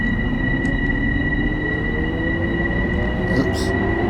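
A passenger train on the Harlem line in the Train Sim World video game pulls away with a steady low rumble and constant electrical whine, brief higher squeals near the end, loud and continuous.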